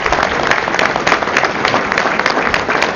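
Steady applause from a crowd at a political tribute ceremony, a dense continuous patter of many hands clapping at an even loudness throughout, with no speech.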